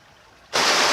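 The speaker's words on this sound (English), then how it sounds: "you can hear all the water, I'm sure" A sudden surge of loud rushing water at a canal lock bursts in after a quiet moment and keeps roaring steadily, close by.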